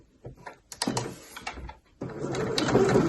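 A sewing machine back stitches at the start of a seam on a kid's tote bag, first with short stuttering bursts of needle clatter and then a steadier, faster mechanical run, close and moderately loud.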